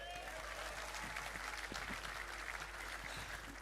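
Audience applause at a strength and fitness competition after a lifting event, a steady wash of clapping from a gathered crowd filling the space at moderate level, with faint voices mixed underneath throughout.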